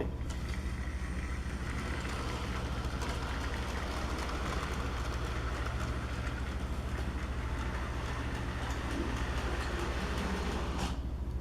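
A toy Oliver engine pulling trucks along a model railway layout, a steady close rumbling whir with faint rail clicks, continuous and even for the whole stretch with no talking.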